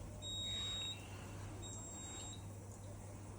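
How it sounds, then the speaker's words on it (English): A Hitachi PAF1260PX microprocessor appliance signals it is finished with an electronic beeping tone in two long, thin bursts over a steady low hum, fairly faint, with no talking. "beeps quite a few times to let you know it's done."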